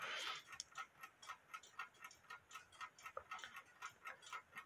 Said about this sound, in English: You can hear it ticking away.